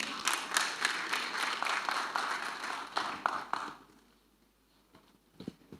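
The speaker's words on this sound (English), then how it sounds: "You can clap for her." Audience applause at a Rivers State governorship debate: a steady crowd clapping for several seconds that fades out, leaving a few scattered claps near the end.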